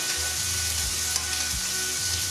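Red lentils frying in olive oil in a hot pan, a steady close sizzle with a low hum underneath and no talk.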